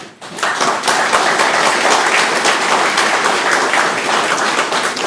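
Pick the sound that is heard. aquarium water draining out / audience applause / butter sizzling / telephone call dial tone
audience applause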